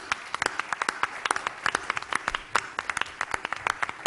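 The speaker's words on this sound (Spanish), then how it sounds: "Un aplauso entonces para ellos" An audience applauds speakers at a teacher-training event, a short burst of brisk, crisp clapping from a modest group, fairly close and steady throughout.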